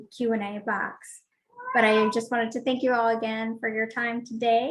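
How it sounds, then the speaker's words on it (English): A noisy cat meows repeatedly and loudly, with several drawn-out, rising and falling meows close to the microphone, overlapping with a person speaking. "She's a very noisy cat, and she wants to say hello to everyone."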